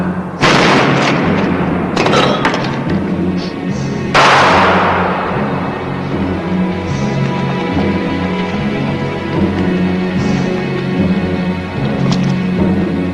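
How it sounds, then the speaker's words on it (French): Gunshots fired into the air in a western film ring out as several loud, sharp blasts early on, the biggest near the start and another around four seconds, over a steady background with music and voices. "Pourquoi vous tirez en l'air?"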